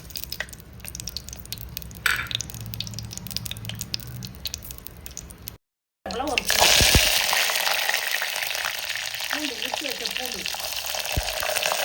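Mustard seeds tempering in hot oil, a busy close sizzle with crackling pops that breaks off briefly, then returns louder and hissier, with a voice talking over it.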